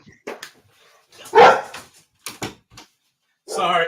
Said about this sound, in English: Dog was barking at some ghost.